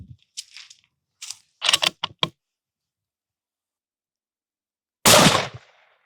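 A used 300 H&H rifle fired at a shooting range: one sharp, loud shot that cuts through the quiet after a few small clicks and knocks, then decays quickly.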